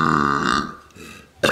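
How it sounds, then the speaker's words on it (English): A few loud, drawn-out burps from a person, one long throaty eructation fading out, then a short sharp burp bursting in at the end, with no talking. "I'm gonna exit the video with a few burps."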